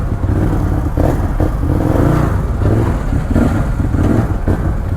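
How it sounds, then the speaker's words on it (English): An Arctic Cat Wildcat 1000X V-twin accelerating on a test drive, a loud, close, raspy engine roar with pulsing revs throughout, no talk. "Nothing wrong with the sound of this engine."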